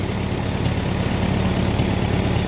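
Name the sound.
tractor engine idling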